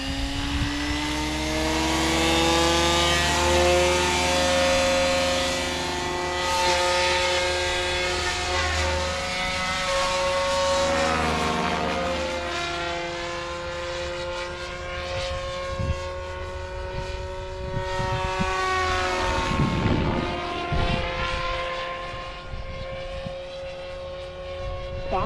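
Goblin 500 RC helicopter motor spooling up from standstill: a loud, continuous electric whine with rising and shifting harmonic tones that swell and sweep over about 25 seconds, close by with no talking.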